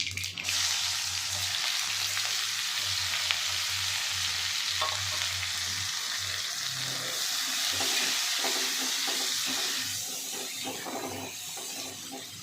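Cumin seeds, finely chopped onion and spring onion fry in hot oil with a steady, loud sizzle that continues throughout, softening slightly toward the end.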